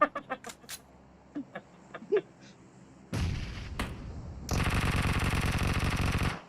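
Video game gunfire: a few scattered single shots, then from the middle a dense, loud burst of rapid automatic fire that runs steadily to the end.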